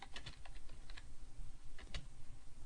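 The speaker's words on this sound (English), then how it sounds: "So I'm going to go ahead and type some text in." Text typed on a computer keyboard while building a basic webpage: quick, close key clicks in uneven bursts over a low background hum, with no talking.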